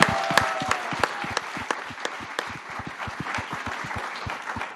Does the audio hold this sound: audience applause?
yes